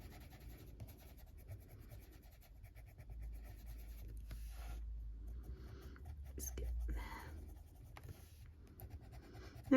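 Soft, dry scratching and rubbing of a Polychromos colored pencil on paper, steady strokes with quiet pauses, close and faint.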